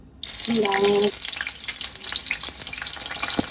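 Vegetables such as tomato, eggplant, potato and green chili hit leftover fish-frying oil with a sudden loud sizzle that settles into a steady close hiss and crackle. A short voice-like tone sounds near the start, then scattered stirring clatter follows.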